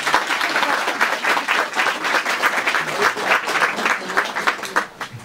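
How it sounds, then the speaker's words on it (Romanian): Audience at a book signing in a bookstore claps for a girl, a lively, close round of applause with distinct individual claps forming a quick, uneven rhythm. "Atunci o aplaudăm cu toții pe Iriana."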